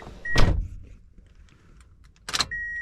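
Driver's door of a Toyota Matrix XRS slams shut twice, two loud separate thuds about two seconds apart, each followed by a steady chime tone, close by with no talk.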